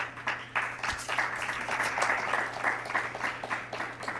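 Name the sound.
audience clapping at a podcast event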